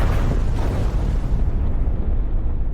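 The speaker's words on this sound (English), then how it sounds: "the truck's engine failed and fell off the cliff, causing a massive explosion" A truck in a desert action movie plunges off a cliff and explodes, a loud, dense roaring blast that holds full strength, then its upper hiss thins out toward the end.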